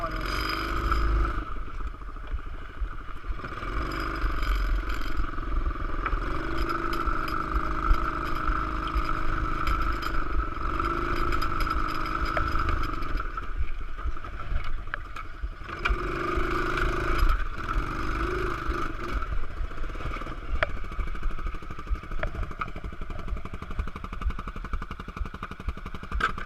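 A small, heavy pit bike engine runs close by with a buzzing, uneven drone that stutters and surges irregularly throughout, never settling into a steady idle.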